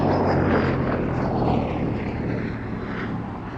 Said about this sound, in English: A very spirited display indeed by this, the Shuttleworth Collection's Gladiator, one of 2 on the flight line